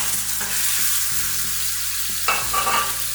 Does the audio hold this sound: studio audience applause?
no